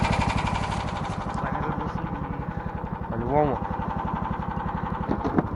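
A motorcycle engine idles with a steady, rapid putter close by in the snowy taiga, briefly revving once, while someone speaks a short phrase over it.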